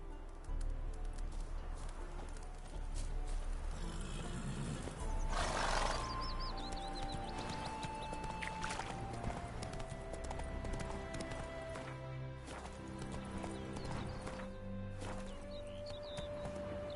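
In The Witcher game, a horse's hooves clip-clop steadily throughout, with a loud neigh partway through amid faint birdsong and ambient outdoor game sounds.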